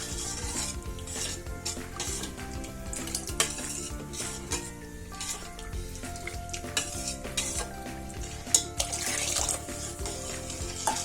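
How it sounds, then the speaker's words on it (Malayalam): Semiya payasam made with milk is stirred in a pot, the scraping and clinking of the utensil sounding over background music with no speech. "1 ലിറ്റർ പാലും ഇതിനകത്ത് ഒഴിച്ചു. നമുക്ക് ഇളക്കി വേവിക്കാം."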